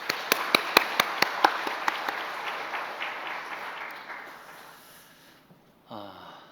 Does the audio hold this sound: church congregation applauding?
yes